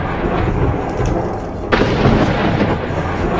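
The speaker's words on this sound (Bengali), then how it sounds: "মাঝে মাঝে বিদ্যুৎ চমকাতে লাগলো।" Thunder rumbles low and steady through a stormy night scene in a spoken ghost story, with a sharper crack about halfway through and rain-like hiss throughout, loud and close with no voices.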